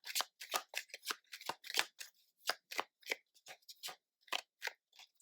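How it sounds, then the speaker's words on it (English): Tarot cards being shuffled by hand, heard as a close series of crisp, papery riffling snaps in an irregular rhythm, each one short and bright. "Shuffle cards again"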